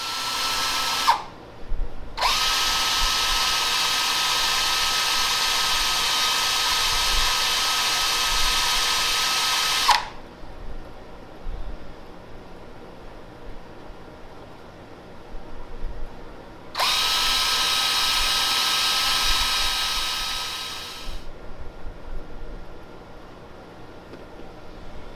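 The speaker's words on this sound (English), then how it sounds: "got the hole drilled" A drill bores a hole in a steel welding table, with a loud, steady high-pitched whine running about eight seconds, then quiet handling noise, then a second drilling burst of around five seconds.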